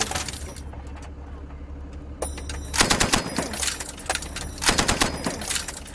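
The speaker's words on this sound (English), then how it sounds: "the Pathfinders insisted I learned how to use the commander's machine gun" Bursts of machine gun fire during military training with British Pathfinders in Afghanistan, two loud, sharp volleys of rapid shots around the three and five second marks, with a steady background hum between them.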